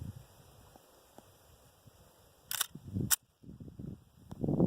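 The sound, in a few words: FN FNP-9 pistol rapid fire gunshots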